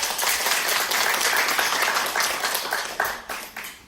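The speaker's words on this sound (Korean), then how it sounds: "큰 박수 한번 주세요" Audience applause at a Korean office meeting, a steady dense wash of many hands clapping that holds for several seconds, then thins and tapers toward the end, with no talk over it.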